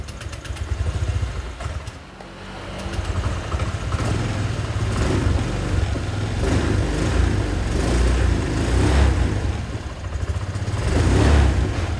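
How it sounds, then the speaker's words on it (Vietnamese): A 125 cc Japanese motorcycle, an older model known for a quiet engine, starts and settles into a steady idle, close and moderately loud, with a slight rev near the end and no talk. "Để em nổ máy anh chị mình nghe coi con này sao cái này."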